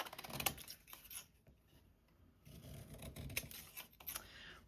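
Scissors snip through colorful scrap paper strips to make tickets: two bursts of crisp close cutting and rustling paper, separated by a quiet pause, with no talking.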